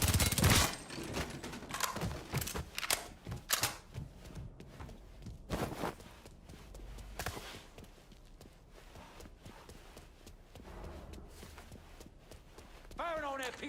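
Gunfire from the video game Mafia comes as sharp, loud shots and bursts scattered irregularly, with a heavy volley at the start. Voices talk in between and footsteps move underneath.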